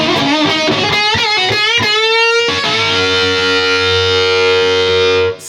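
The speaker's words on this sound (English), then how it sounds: "We got some distortion going on." A distorted electric guitar, played with bare fingers, plays a run of quick picked notes, then rings out on a sustained, buzzy chord that holds loud until it cuts off.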